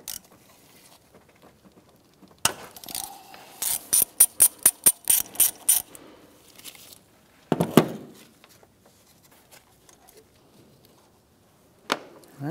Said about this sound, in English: we're going to remove the two top 10 millimeter bolts from our top line